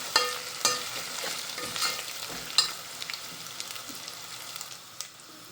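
Dried onion sizzles and fries in a hot pan, a steady crackling hiss broken by several sharp stirring clatters, close and without talk.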